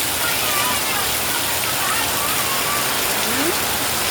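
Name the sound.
heavy rain in Metro Manila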